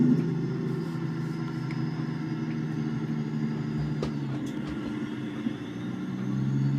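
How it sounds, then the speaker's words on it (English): Heavy truck engine rumbles steadily up close inside the cab during a downshift, with a low drone that shifts pitch midway and a few sharp clicks and clunks from the gearbox. "Downshift time."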